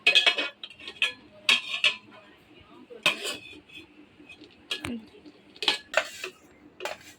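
Plates and serving utensils clink and knock in scattered, close bright taps while rice is dished out, with quiet pauses between the clatter.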